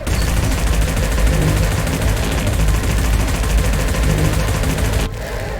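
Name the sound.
shoulder-mounted cannons firing in VR game Boiling Steel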